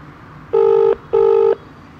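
Telephone ringback tone on an outgoing call: two clear, steady electronic rings, each under half a second, separated by a short gap, with no talking.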